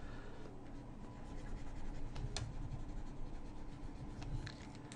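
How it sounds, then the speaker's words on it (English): An eraser scrubs steadily across a drawing surface, a soft continuous scratchy rubbing with a few sharper strokes, close and quiet, with no voices. "let me just erase all this."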